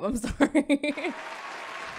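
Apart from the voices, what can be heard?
applause sound effect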